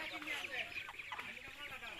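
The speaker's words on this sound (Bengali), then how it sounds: "এরকম মুরগির বাচ্চা" Chicks peep and cluck softly and continuously, faint against a noisy village market background.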